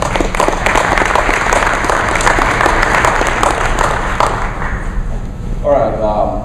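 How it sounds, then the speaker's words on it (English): Dense audience applause at a sales talk rolls on steadily and fairly loud, fading slightly toward the close, with a faint voice emerging at the very end. "So please give a warm round of applause to John Anglis."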